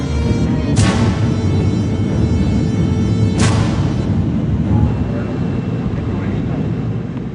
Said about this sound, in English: After landing in San Francisco at the International Airport